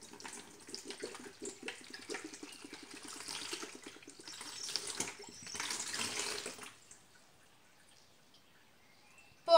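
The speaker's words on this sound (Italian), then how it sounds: "Ci dovrete mettere la metà boccetta d'acqua." Water poured from a small bottle into a container, a soft continuous trickling splash lasting several seconds, quiet and close, then stopping into near silence.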